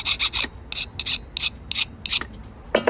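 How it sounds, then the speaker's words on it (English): A metal file rasps burrs off a freshly cut Honda key in short, repeated strokes, about a dozen quick scrapes in uneven rhythm, close and fairly quiet. "We're gonna hit that with the file."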